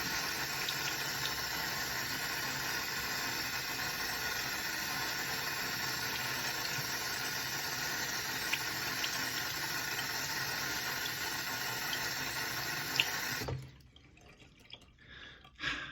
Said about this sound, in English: Just gonna give it a rinse with water on the outside, then on the inside.